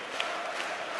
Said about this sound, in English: And the German crowd are loving this